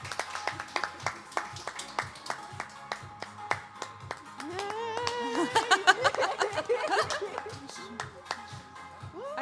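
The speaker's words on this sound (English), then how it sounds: "round of applause for our winners" An audience claps for the winners of a tech pitch competition, a rhythmic patter of hands joined by laughter, chatter and a whoop as voices rise over it.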